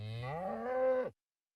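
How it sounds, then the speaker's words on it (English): A Minecraft cow gives a single drawn-out moo in the new moody sound variant from the video game. The low, rising, sustained call lasts about a second and then cuts off cleanly into silence. "cows can have moody sounds"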